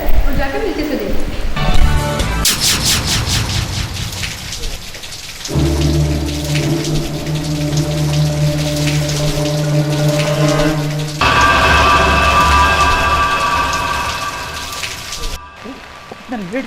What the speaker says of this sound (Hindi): आप भी तो देख रहे हैं बारिश कितनी जोर से हो रही है